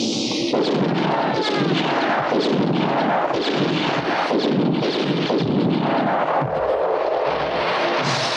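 Dense, continuous bursts of heavy gunfire and booming blasts fill the whole stretch, loud and chaotic with no pause.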